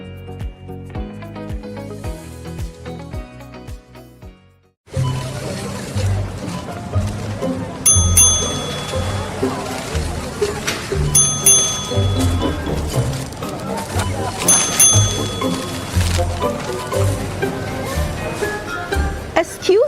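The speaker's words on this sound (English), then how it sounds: "What's that ding-ding noise?" Bright, repeated ding-ding chimes from a store's frequent shopper points system sound every few seconds over busy background noise and music.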